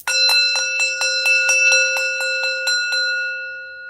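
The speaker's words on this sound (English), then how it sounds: "I gotta hit the bell on that one." A bell is struck rapidly over and over, producing a bright ringing tone that sustains with steady pulses, loud and close, then fades out.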